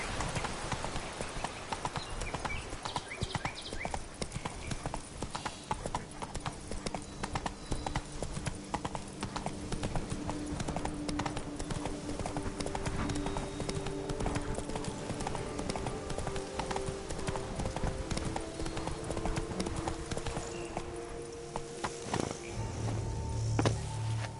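Rhythmic hoofbeats of a horse travel steadily and continuously in Witcher 3: Blood and Wine, close and moderately loud, with game ambience underneath and little talk.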